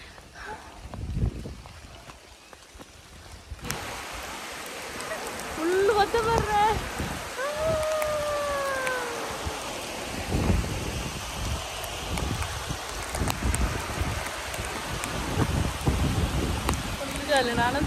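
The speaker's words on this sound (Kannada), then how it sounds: "ಮಳೆ ಬರ್ತಾ ಇದೆ." Steady rain hisses and patters all around during a walk outdoors through a downpour, loud and continuous, with a voice speaking now and then beneath it.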